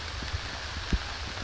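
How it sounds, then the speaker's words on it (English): Steady rain falls in Norfolk in August along a countryside walking trail, a constant soft hiss broken by a few dull low thumps. "There's a lot of rain in Norfolk on and off the last few days, even though it's August."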